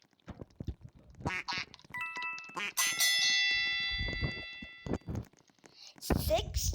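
Cartoonish duck quacks from the video game Don't Press the Button, mixed with chiming bell-like game tones, heard in short bursts under a player's steady talking.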